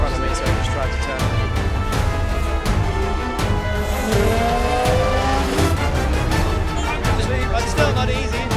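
A race car roars past on the Circuit of the Americas track during the FIA WEC 6 Hours of COTA, a loud, continuous engine drone dense with sustained motor noise and faint tire sounds throughout.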